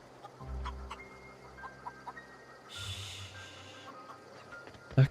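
Chicken clucking in the video game The Outer Worlds, a few short soft clucks scattered over steady game ambience and a low hum, no talking.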